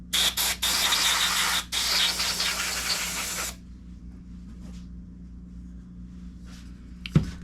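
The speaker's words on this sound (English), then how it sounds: "Spray this down one more time with some brake clean." Brake cleaner sprayed from an aerosol can onto a part from a 6.0 Powerstroke diesel's fuel system during an HFCM rebuild, heard as several short hissing bursts followed by one long continuous spray, close and loud, then quiet with faint handling noises.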